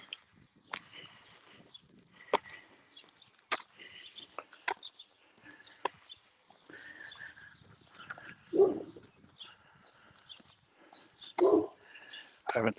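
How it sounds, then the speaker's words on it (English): A dog barking outdoors at a distance: scattered single barks, faint and sharp, with a couple of louder bursts near the end over quiet ambience. "Sounds like I've roused the interest of a dog."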